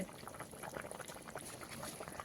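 Water poured into a simmering curry in a home kitchen, a steady bubbling, hissing liquid wash that stays even and fairly close throughout, with no talking.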